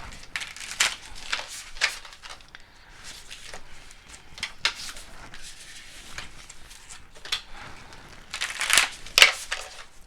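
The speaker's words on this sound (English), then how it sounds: "Alright, one last quick shuffle." Oracle cards being shuffled close up, soft papery crackling and rubbing in irregular bursts, quiet overall with a few sharper riffles toward the end and no talk.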